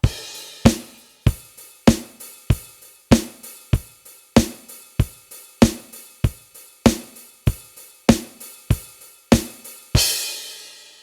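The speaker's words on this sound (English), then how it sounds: "Now, that's sped up with a little bit of hats open" A steady drum groove with sharp, evenly spaced hits and a splashy open hi-hat wash ringing out at the end, played alone.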